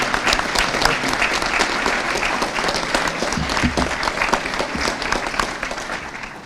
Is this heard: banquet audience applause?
yes